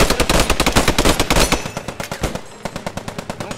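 Rapid bursts of Thompson submachine gun fire in the World War II shooter Post Scriptum, loud and close, a steady stream of shots that pauses briefly and then resumes, with no talk.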